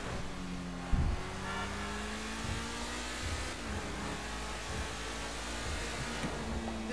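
A car in GTA 5 driven recklessly, its engine droning steadily and revving with shifting pitch, with a sharp thump near the start and a continuous rushing road noise throughout.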